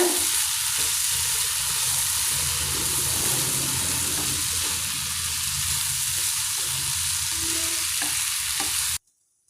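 Steady sizzling and frying of chili powder in a pan with occasional stirring scrapes, continuous and close, then cutting off abruptly at the end.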